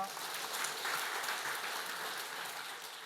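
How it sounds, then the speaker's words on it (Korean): A congregation at a men's mission society officers' prayer meeting in a Korean church applauds the pastor, a quiet, steady wash of many hands clapping that holds evenly for about three seconds. "오늘은 말씀을 전해주신 목사님께 감사의 박수를 드리겠습니다."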